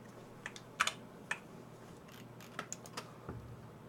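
Scattered keyboard keys click during work in Photoshop, a handful of light, separate taps over a low steady hum, soft and close with no voice.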